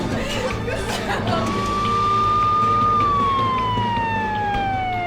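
An ambulance siren wails in a dramatic hospital scene, a sustained tone that rises and then slowly glides downward, loud and close over a busy background with some voices.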